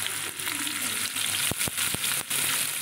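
Garlic cloves frying in hot oil while cooking a pointed gourd mash, a strong continuous hiss and crackle close up, broken by a few brief stirring or scraping knocks.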